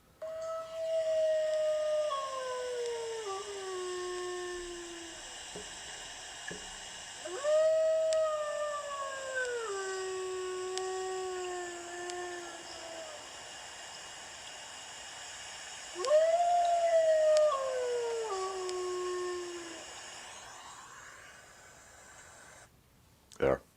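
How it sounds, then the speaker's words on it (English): Dogs howl in long rising-and-falling wails, three drawn-out bouts with pauses between, over a faint steady background tone. "Send me recordings of your dogs howling."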